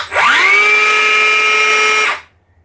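A Milwaukee electric planer motor whirs up to a steady high-pitched whine, runs for about two seconds, then cuts off abruptly, leaving silence.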